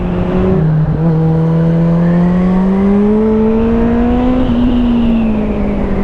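A Kawasaki ZZR 1400 motorcycle with a 200 hp engine accelerates smoothly, its loud close engine note rising steadily in pitch over several seconds after a brief gear change, under strong wind rush.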